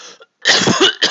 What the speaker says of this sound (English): Okay, cough.